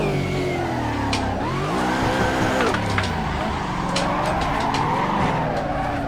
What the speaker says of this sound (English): This is probably the most real feeling car I've ever drifted though, in Assetto Corsa.